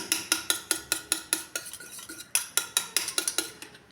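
A whisk beats yogurt (curd) in a cup, a quick series of sharp rhythmic clinks against the sides, about four per second with a short pause midway, close and clear with no talking.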